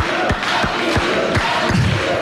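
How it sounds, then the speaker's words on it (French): A studio audience at a French television show applauds and cheers loudly and steadily, a dense wash of clapping broken by a few heavy thumps, with some shouting mixed in. "Alors on peut l'applaudir quand même"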